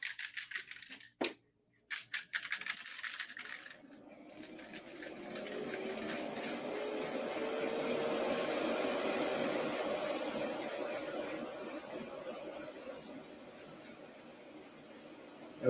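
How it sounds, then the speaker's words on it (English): Spray paint hisses steadily from an aerosol can onto a model brick surface, a continuous close spray lasting several seconds after a few brief clicks and knocks at the start. "So all my spray is going this direction."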